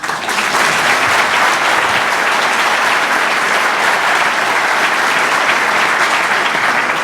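Loud, sustained applause from a large audience at a religious freedom debate, dense and steady clapping filling the room for about seven seconds without talk.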